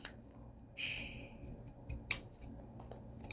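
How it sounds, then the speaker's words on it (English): Fabric scissors snipping through cloth for a craft project: a soft sliding cut followed by one sharp metallic snip, faint and close in a quiet room. "Let me get some fabric scissors."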